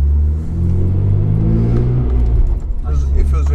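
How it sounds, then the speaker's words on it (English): A BMW E46 M3 convertible's 360 bhp engine rumbles low and steady, heard close from inside the cabin, with a brief rise in revs toward the end. "We're gonna go for a little spin and see how this car drives."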